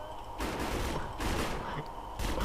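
Gunfire from a weapon in the video game Defiance, several quiet bursts of rapid shots separated by short pauses, heard at low level with no talking.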